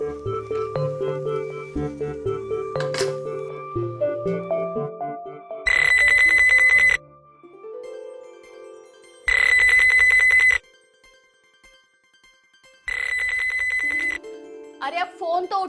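A phone rings in three loud electronic bursts spaced a few seconds apart, with music and voices between the rings.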